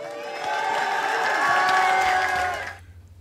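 A large crowd at a Slovenian political gathering applauds and cheers steadily for a couple of seconds, loud and dense, then it fades out and leaves a low hum.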